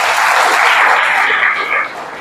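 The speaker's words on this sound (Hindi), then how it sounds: "एक बार जोरदार ताली बजा दीजिए आप" Applause from a college audience at a personality development workshop, a brief dense burst of clapping that fades after about two seconds.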